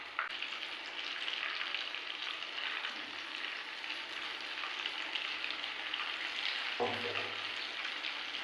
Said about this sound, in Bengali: একদিকগুলো প্রায় ভাজা হয়ে গেছে